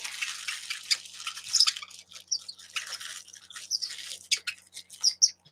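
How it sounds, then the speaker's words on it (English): A pet bird chirps and squawks in fast bursts, reacting to crinkling plastic packaging close by, with sharp high calls scattered over a steady rustle. "Whenever I make like plastic package sounds, she doesn't like that. She starts freaking out and chirping."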